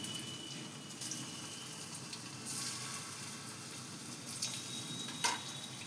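Soybean kofta deep-frying in white oil, a quiet continuous bubbling sizzle with soft crackles and one brief louder pop near the end, without talk.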